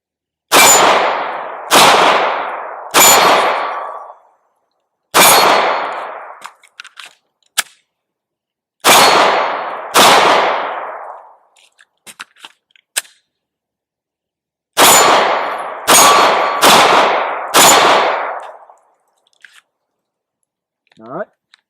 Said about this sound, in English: let's shoot the steel target about 10 yards